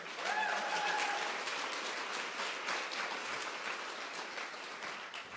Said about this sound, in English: Huge round of applause to Mercer.